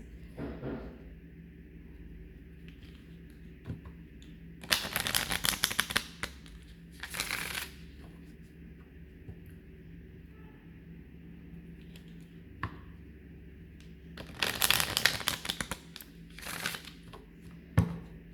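Wisdom cards being shuffled while the deck is cleared, heard as two bursts of riffling card noise, each a few seconds long and fairly close, separated by quiet stretches with faint ticks.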